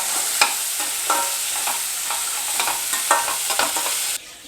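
Chillies frying in a pan, a constant close sizzle punctuated by several sharp scraping stir strokes, dropping suddenly near the end.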